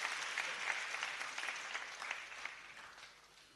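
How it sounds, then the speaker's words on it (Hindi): Applause from a seated audience at a Jain religious gathering, a steady wash of many hands clapping that swells and fades in slight waves before tapering off toward the end, with no voices over it. "उनको जोरदार तालियां बजा करके उनकी सेवाओं का अभिनंदन करना चाहिए"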